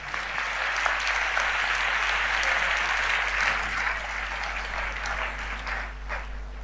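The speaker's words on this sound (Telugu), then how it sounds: "మీరు చప్పట్లు కొట్టారు" An audience applauds steadily for several seconds, a broad wash of clapping at moderate distance that holds even, then thins slightly toward the end, with no voices over it.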